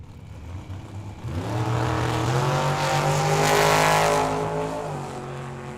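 Drag racing launch at Tucson Dragway: the Venom dragster and a Mustang roar off the line together, a loud, sustained engine howl building steadily as they pull away, with tire noise under the rising revs.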